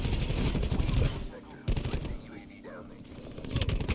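Maddox assault rifle bursts in Call of Duty Black Ops 4 multiplayer, rapid shots crackling loud and close in short strings with a pause, layered with game effects and background chatter.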